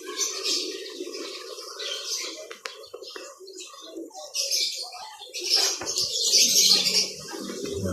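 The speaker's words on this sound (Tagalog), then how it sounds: "Yung mga lovebirds." Lovebirds call in a small park in Taal, Batangas: scattered high chirps and tweets over a busy outdoor background, with low murmuring voices beneath and a louder burst of chatter near the end.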